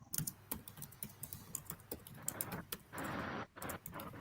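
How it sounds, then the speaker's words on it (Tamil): Fast typing on a computer keyboard during an online novel-writing workshop: a dense, rapid stream of crisp, close keystroke clicks with a brief steadier burst near the end, with no talk over it. "யாரோ பயங்கரமா டைப் பண்றாங்க."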